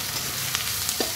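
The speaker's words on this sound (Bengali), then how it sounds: "এখানে আমার পেঁয়াজ রসুন সব লাল লাল ভাজা হয়ে গেছে।" Onion and garlic frying in a pan, a steady low sizzle with faint stirring scrapes, close and quiet throughout with no voices.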